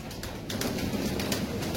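Tall pigeons cooing in a flock, a steady soft murmur of coos with a busy background hum and no talking.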